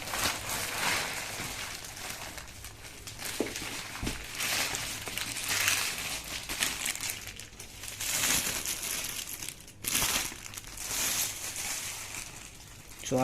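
Motorcycle windshield for a Yamaha R15 V2 being pulled from its packaging, with irregular crinkling and crumpling of plastic and paper in bursts, close and fairly quiet.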